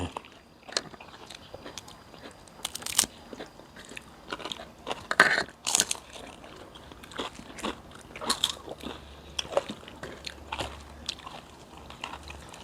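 Crunchy food bitten and chewed up close, giving irregular sharp crackling crunches throughout with no speech.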